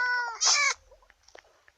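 A single bright, synthetic-sounding Minecraft cat meow rings out, followed by a few soft clicks and blips in near silence.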